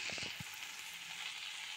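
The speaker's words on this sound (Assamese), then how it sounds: "নিমখ হালধি দি অকণমান সময় ভাজিলেই হৈ যাব কলমৌ শাকৰ" Water spinach and fiddlehead fern greens frying in oil with salt and turmeric, a steady close sizzle with a few brief stirring knocks at the start, no voices.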